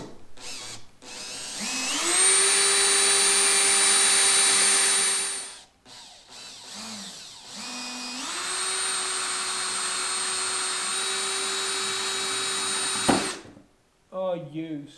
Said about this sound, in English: I'm going to go in those same holes with a bigger drill bit